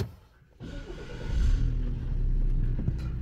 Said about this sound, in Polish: Teraz spróbujemy zapalić auto.